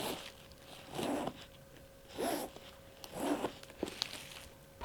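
Zipper on a Coach Empire 28 leather handbag drawn open and shut three times in slow, even strokes, close and fairly quiet, with a few small clicks of hardware afterward and no talking.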